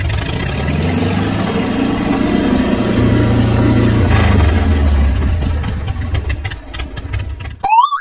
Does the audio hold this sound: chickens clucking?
no